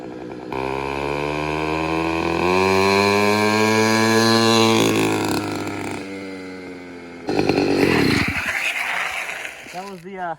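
A kit-built motorized bicycle engine runs on a nitrous spray, a loud buzzing two-stroke whine that rises and falls in pitch, then cuts to a rougher burst of noise at the end.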